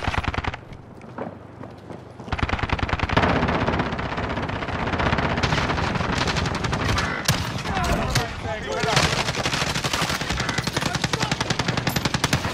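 Rapid automatic gunfire in a squad-based shooter video game, sustained bursts of loud shots running almost continuously after a quiet opening, with players talking over the firing.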